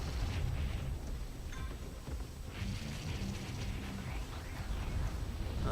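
A missile launched and blowing up in the video game Project Root, with a rumbling boom and dense low-end bursts that run the whole way through and stay loud.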